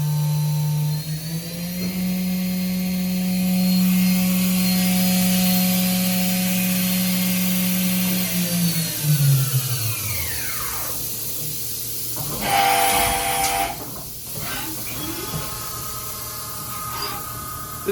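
A Wia CNC machine spindle runs at 9,000 RPM with a loud, steady high whine over airy hiss. The pitch then sweeps downward as it spins down, leaving a rougher mechanical hiss and clatter.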